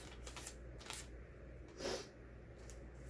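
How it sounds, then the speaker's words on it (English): A paper square is folded in half, giving soft crisp rustles and a short creasing swish near the end, faint and close with no voices. "I'm going to fold it in half."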